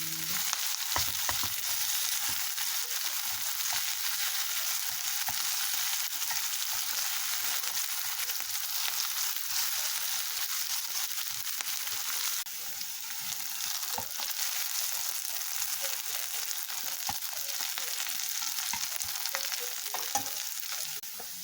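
Broccoli and pork loin sauté in a hot pan, giving a steady, close sizzling hiss with faint stirring scrapes that runs unbroken throughout, with no talking.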